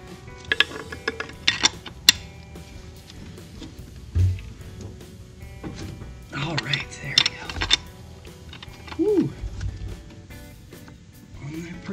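A ratchet works loose a seized PCV valve on a 2001–2007 V6 Toyota Highlander after penetrating oil has been sprayed on it, giving irregular clusters of close metallic clicks with someone talking intermittently.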